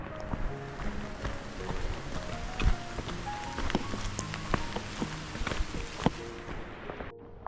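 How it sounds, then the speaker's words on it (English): Steady rain patters on a wooded stretch of the Appalachian Trail in Georgia, a soft even hiss with scattered drips and footsteps close by, no voices. "Still raining."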